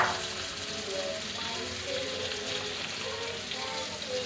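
Onions frying in a pan for chicken curry, a steady crackling sizzle throughout with faint stirring, and a voice speaking briefly over it.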